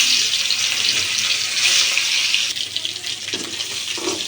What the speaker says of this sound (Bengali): এবার আমি মাছগুলো মাখিয়ে রাখছিলাম লবণ হলুদ দিয়ে, তো সেটা এক পিস করে এক এক করে দিয়ে দেব।